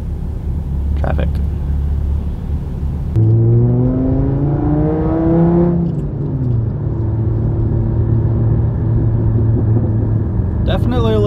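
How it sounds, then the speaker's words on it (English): Engine of a VW 2.5 five-cylinder car with a Stage 2 tune, droning steadily from inside the cabin, with a rising rev sweep as it accelerates before settling back to a steady hum. "Definitely a little bit more engine noise up front."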